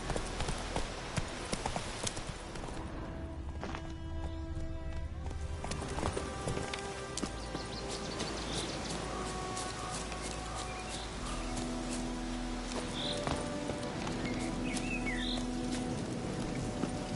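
Horse hooves clip-clopping at a steady run in The Witcher video game, rhythmic and fairly close, with faint ambient outdoor sound and birds beneath.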